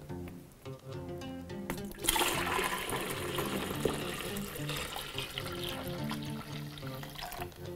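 Large batch of ChaTraMue Thai iced tea poured into a storage container, a close, steady rush and splash of liquid that carries on for several seconds.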